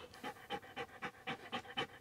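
A small dog pants in quick, rhythmic bursts, about eight breathy puffs over two seconds, close and fairly quiet with no talking.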